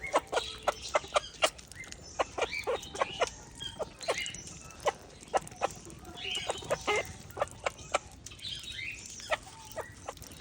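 A hen and her chicks cluck and peck while eating feed, giving sharp, irregular clucks and pecking taps at close range against a quiet background.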